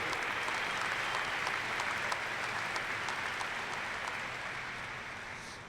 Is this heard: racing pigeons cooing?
no